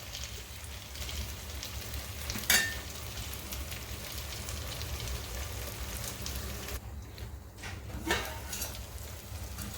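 Onions sizzle and crackle in a pan for an Ayala fish curry, a soft, steady frying hiss with occasional scraping stirs.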